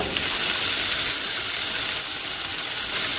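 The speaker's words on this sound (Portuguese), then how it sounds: "E agora eu vou deixar fritar bem o bacon antes de colocar o feijão." Bacon frying in a pan on a home stove before beans are added, a steady, close sizzling crackle that holds evenly throughout with no talking.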